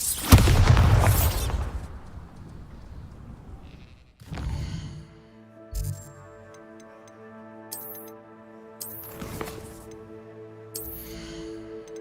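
Bombarda spells explode in Hogwarts Legacy: a heavy blast opens, another burst follows around four seconds in, then sharp bursts recur over a sustained tonal hum and ticking game sounds.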